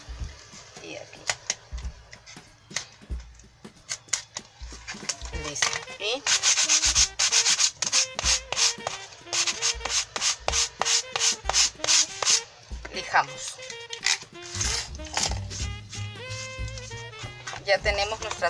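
Wood being cut and rubbed along a ruler to trim excess from a board for a faux-planked craft picture, with repeated close rasping strokes, thumps and scraping, some dense runs of quick strokes, and a voice speaking over it.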